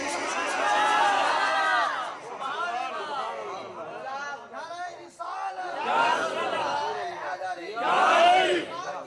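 A crowd at a religious gathering for Sufi saint Peer Moj Daria Shah chants slogans in loud call-and-response bursts, rising and falling voices surging together, with a leader's voice cutting in between.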